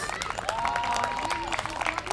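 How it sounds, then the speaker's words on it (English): Applause from the audience at an outdoor Indigenous Peoples Day celebration at Bartram's Garden: a busy scatter of clapping throughout, with a voice and some tonal background sound mixed underneath. "So everybody, please clap your hands for the 13 years."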